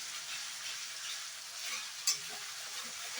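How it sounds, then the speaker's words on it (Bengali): Tomato ketchup frying in hot oil as part of a spiced filling for chhanar kochuri, a steady close hiss of sizzling with one sharp brief crackle partway through and no talking. "টমেটো কেচাপটাকেও সুন্দর করে তেলের মধ্যে ভেজে নিচ্ছি"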